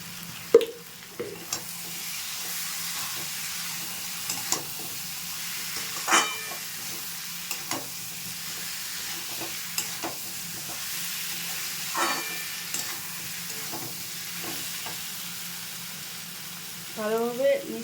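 A spatula stirs taro (kochur mukhi) curry frying in a pan with potatoes, a steady sizzle underneath and periodic scraping strokes against the pan every second or two, close and moderately loud.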